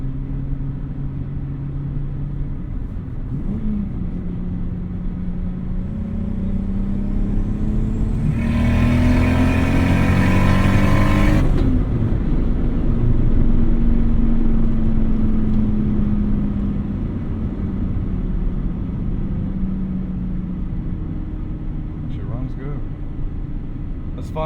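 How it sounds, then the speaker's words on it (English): A 1998 VW Jetta GLX VR6 turbo with an open dump tube drives and accelerates, its engine and exhaust rising into a louder, harsher roar under boost before settling back to a steady rumble inside the car. "when it hits full boost, that's when you hear that exhaust open up."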